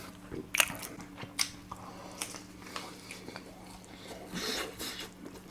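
Crunchy Korean garlic fried chicken is bitten and chewed up close, with sharp crackling bites early on followed by softer, moist crunching and chewing.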